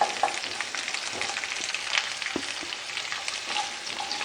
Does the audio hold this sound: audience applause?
no